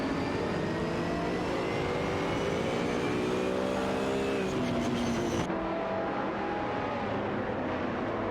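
Video game race cars, an Aston Martin DBRS9 and a Jaguar XKR GT3, drone and whine continuously with engines pitching up and down as they battle closely, no voices over the steady mechanical roar.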